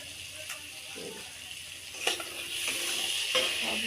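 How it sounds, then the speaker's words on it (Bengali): Masala with chilli powder and cumin paste sautéing in a pan, a steady soft sizzle with a few sharp scrapes and clinks of a spoon stirring, moderately close. "লঙ্কার গুঁড়ো দিয়ে আর একটু ভালো করে কষিয়ে নেব দিয়ে দেবো জিরে বাটা"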